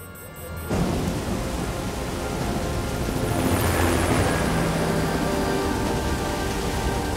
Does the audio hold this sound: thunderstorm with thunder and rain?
yes